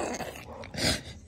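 A pit bull growls and snarls in a short, close burst during tug of war, rising to a louder rough rumble before fading.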